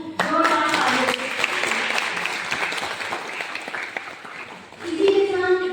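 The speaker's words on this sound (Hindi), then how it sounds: "जोरदार तालियों से" An audience at a college youth parliament competition in Almora, Uttarakhand claps loudly and continuously to welcome the chief guest. The dense applause keeps going for several seconds, with a few voices mixed in.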